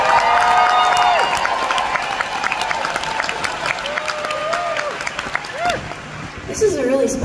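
A concert crowd in Glasgow applauds and cheers steadily for a performer at a Nashville reunion show, with scattered whoops and voices mixed into the sustained clapping.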